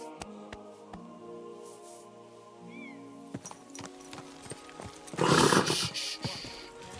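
A horse whinnies and snorts amid ambient sounds and clicks in Kingdom Come: Deliverance II, with a louder burst of breathy noise near the end.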